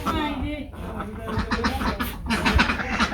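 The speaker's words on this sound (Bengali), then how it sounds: "এই যে হাঁস ঘরে এসে" Ducks quack in a busy cluster, close by, as they return to their shelter at dusk in a Bangladeshi village, with a person talking over them.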